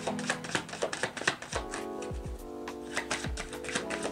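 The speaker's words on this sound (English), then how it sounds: "Alright, we're gonna shuffle this deck." A deck of tarot cards is shuffled up close, giving rapid, crisp papery clicks and riffles over soft tonal background music.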